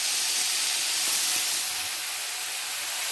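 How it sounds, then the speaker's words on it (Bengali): Shredded cabbage and other vegetables tipped into a pan of lightly fried onions for veg momo filling, giving a loud, steady hiss of sizzling that holds evenly throughout with no voices. "পেঁয়াজটা হালকা ভাজা হয়ে গেছে, এবারে আমরা এর মধ্যে সবজিগুলো দিয়ে দিচ্ছি।"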